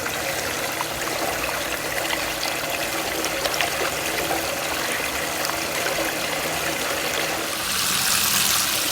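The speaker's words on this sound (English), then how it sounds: "Let's get the sluice fired up." A water pump feeds a gold highbanker sluice, with steady rushing and splashing water heard close and continuous, growing slightly louder toward the end, no talk.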